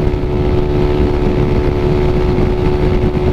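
A Yamaha Mio Sporty scooter with a Michelin drive belt roars at high revs, a loud, steady, droning engine note held without letup, close to the microphone and with no voices.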